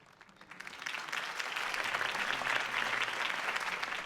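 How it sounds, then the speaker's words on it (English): Steady crowd applause in Batman: The Telltale Series swells in over the first half second and then holds as a dense, sustained clapping roar from a large audience. "If only Mr. Wayne, my campaign's largest backer, could have heard that applause"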